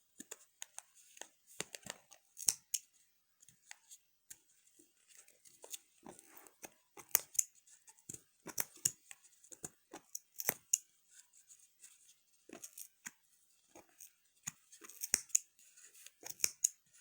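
Scissors snip through crochet yarn in many quick, irregular cuts, some in rapid clusters, quiet and close with soft crunchy clicks between them.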